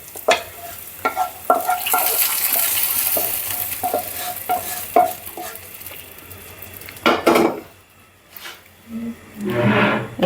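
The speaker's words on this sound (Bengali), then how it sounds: "এই যে পেঁয়াজের রসুন লাল লাল হয়ে আসছে আমি দিয়ে দিচ্ছি এখন ডালের ভিতরে" Fried onion and garlic tempering tipped into cooked red lentil dal, with a burst of sizzling, repeated clinks of a metal spoon against the pot, and a loud hiss near the end.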